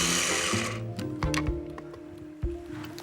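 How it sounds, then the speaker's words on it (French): Kitchen blender whirring through green apple compote simmered with Banyuls wine, a loud steady motor whine that cuts out and restarts in short bursts, with no one speaking. "La compote au vin de Banyuls a suffisamment mijoté et peut passer au mixeur."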